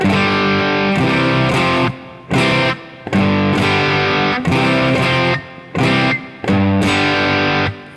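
Slow, distorted electric guitar riff with chords cut short by palm muting, leaving brief gaps between heavy, chugging phrases.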